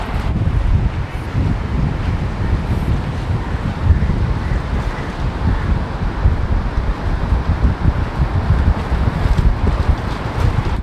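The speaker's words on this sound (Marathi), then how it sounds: "पूर्ण साईडला वारा सुटलेला गारगार गारगार" Steady, loud wind buffets the microphone on Nagaon beach during the monsoon, a constant low roar with faint surf and no clear voices.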